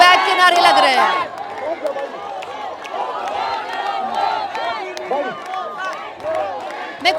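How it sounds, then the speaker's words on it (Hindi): A dense, agitated crowd at a chaotic stage event, shouting and chanting together in a loud, continuous roar of many overlapping voices, with a sharper burst of yelling at the start. "गोदी मीडिया गो बैक के नारे लग रहे हैं"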